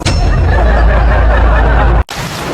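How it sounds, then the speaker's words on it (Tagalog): Dense, steady roaring noise like heavy rain pouring down, loud and close, briefly cutting out before resuming. "Hala, ang lakas ng ulan"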